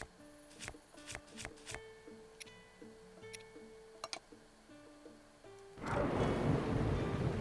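A thunderstorm in the video game Zelda Breath of the Wild, with light ticking and rain-like patter that erupts into a loud, sustained rumble of thunder near the end.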